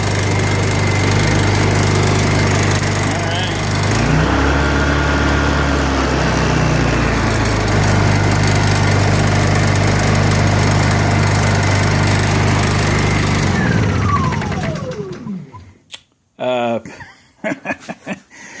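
A Honda EU2000i inverter generator drones steadily and loudly up close for about fourteen seconds while tools rattle in a toolbox. The engine then winds down and stops, leaving a few knocks and clicks.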